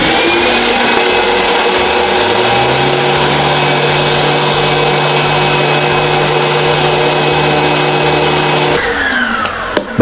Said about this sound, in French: Là, je l'ai connecté à mon aspirateur parce que le ponçage, ça fait beaucoup de poussière.